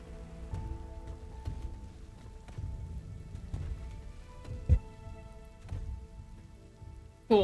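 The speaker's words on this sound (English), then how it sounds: "of course it's depression, it's raining" Soft rain falls in a video game's gloomy grayscale stage, a quiet patter with scattered distinct drops and faint tonal background sounds, no voices.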